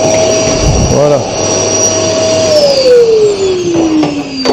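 A loud vacuum cleaner whines steadily while cleaning a De Dietrich Modulens gas condensing boiler, with a brief knock early on, then its pitch slides down as the motor winds down toward the end.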